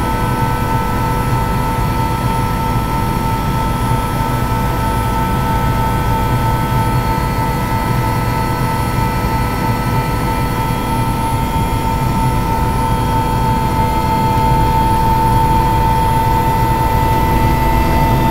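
Loud, steady helicopter engine whine with a constant droning roar, sustained without pause as the helicopter taxis along the runway of Con Son airport and takes off.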